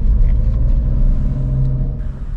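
Manual car engine revving as the clutch pedal is released, a steady loud low rumble with a sustained hum that holds across the whole stretch and eases slightly near the end.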